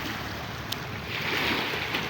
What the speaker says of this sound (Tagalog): yan lakas ng alon ha kahit kahit wala namang ano yan, lakas ang alon